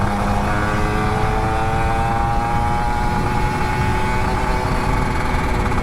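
Older Kawasaki Ninja RR 150 two-stroke motorcycle, freshly serviced, revving hard in third gear: a loud, close, buzzing engine wail with rising whine, continuous and without speech.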